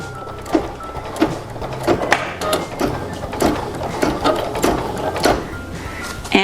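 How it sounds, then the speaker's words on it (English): A sewing machine stitches slowly toward the edge of fabric, giving a rhythmic series of distinct needle clacks about two per second, close and clear over a low mechanical hum. "I'm going to turn the machine down way slow, and we will stitch right up to the edge here"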